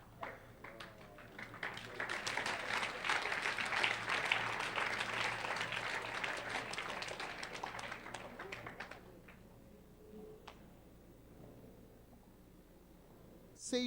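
An audience claps together in a sustained burst of applause lasting several seconds, fading out into a quiet room with a few scattered taps.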